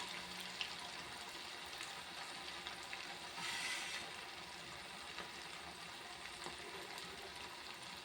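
Snacks for children, dropped into a pan in batches of about ten, fry with a steady, faint bubbling sizzle in hot oil that holds evenly throughout, with a brief swell of crackle midway and no talk.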